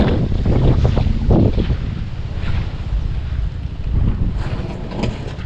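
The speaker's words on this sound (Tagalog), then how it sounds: "At malalaki nga alon." Big waves slap and wash against a small outrigger fishing boat while strong wind buffets the microphone, loud rushing turbulence with surging bursts and no speech.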